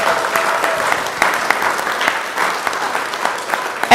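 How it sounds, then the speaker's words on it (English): An audience at a school district board of trustees meeting applauds steadily and loudly, a dense wash of clapping for the whole stretch. "Please give them a round of applause."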